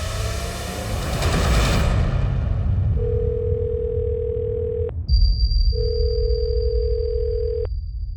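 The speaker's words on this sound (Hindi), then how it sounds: "फोन क्यों नहीं उठा रहे हैं?" A steady electronic telephone tone sounds in two long stretches, broken by a short gap, over a low rumbling background with no voices.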